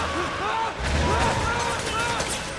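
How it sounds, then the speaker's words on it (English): Gunfire crackles in the Metal Gear Solid 4: Guns of the Patriots video game, with repeated shots and battlefield booms over a busy backdrop, and someone talking on top. "With gunfire and tanks going around, probably best not to try."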